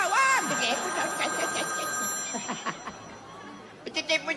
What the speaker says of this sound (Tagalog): I-check mo yung telepono kung may tumatawag.